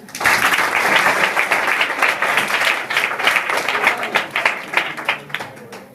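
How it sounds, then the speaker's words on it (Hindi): Students in a school assembly at Alagu Smarak Inter College, Uttar Pradesh, burst into loud, sustained clapping that swells quickly, holds steady, then thins out toward the end, with a few voices underneath. "ताली बजाओ इनके लिए।"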